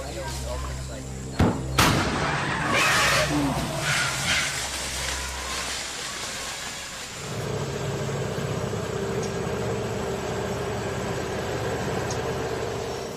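Two sharp, loud homemade cannon blasts used to scare off pygmy elephants in Borneo boom in quick succession, followed by a rumbling echo and then a steady low mechanical hum, with voices faintly underneath.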